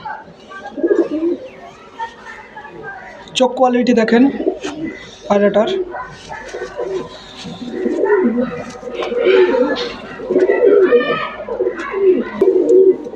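Pigeons coo softly through the clip, repeated low murmuring calls close by, with someone talking over them and occasional rustling.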